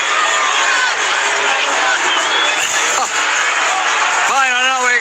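Stadium crowd at the NRL grand final between Melbourne Storm and Brisbane Broncos, a loud continuous roar of cheering fans during the lap of honour, with people talking and shouting up close over it.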